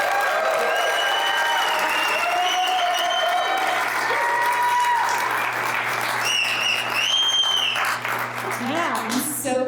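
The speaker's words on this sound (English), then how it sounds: "we'll give a big round of applause for Karianne Lisonbee." Audience applause for Karianne Lisonbee at a Utah Republican political event, a steady broadband clatter of clapping and crowd noise lasting throughout, with some cheering and tonal sounds mixed in.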